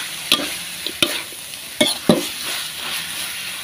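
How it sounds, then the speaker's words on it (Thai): Frog curry stir-fried with eggplant and kaffir lime leaves in a pan, a steady sizzle broken by several sharp scraping stirs of the spatula, close and clear with no talking. "เสร็จแล้วเราก็จะมาผัดนะคะ"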